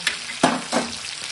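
Fish frying in a pan at home, with a steady soft sizzle and a few louder bursts of spatter and stirring, close and without talk.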